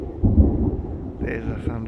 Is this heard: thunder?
yes